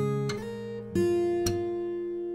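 Thumb slaps on the sixth string of an acoustic guitar, three sharp percussive hits roughly half a second apart over ringing open strings, close and clean with no speech.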